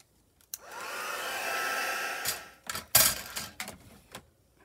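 A hair dryer runs for about two seconds in a room, drying a black-and-white portrait photo for a junk journal, followed by a few short handling clatters and ticks after it switches off.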